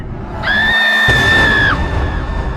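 A woman's sustained high-pitched scream in a horror story, loud and steady for about a second over a dark, rumbling background.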